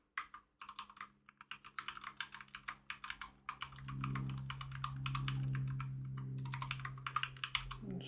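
Fingers tapping on a computer keyboard in quick, irregular bursts of close, crisp clicks while text is cut and pasted, with a low hum swelling in the background partway through.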